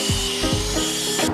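A power saw with its blade tilted cuts a ramp edge into wooden boards, a loud close buzzing whine with repeated rising strokes as the blade bites and pulls through the wood.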